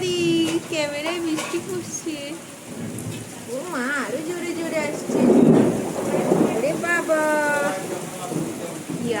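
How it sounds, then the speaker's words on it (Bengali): Heavy rain pours down steadily with rumbling thunder during a downpour, a dense, close wash of rainfall while voices talk over it throughout. "ওরে বাবা কি জুড়ে জুড়ে বৃষ্টি পড়ছে গো"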